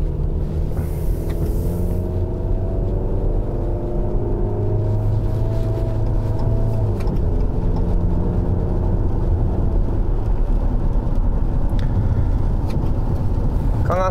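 A Jeep Cherokee Sport 4x4 with a 2.4-litre four-cylinder and nine-speed gearbox pulls away from a start, its engine rumbling and rising steadily with gear changes, heard from inside the cabin with a voice speaking over it.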